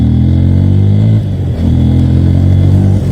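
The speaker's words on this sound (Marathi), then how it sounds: "म्हणजे इंजिनचा आवाज पण जास्त येत नसेल तुम्हाला" A motorcycle engine runs with its clutch cable slackened, a loud close, steady low drone with a brief dip and recovery in the middle.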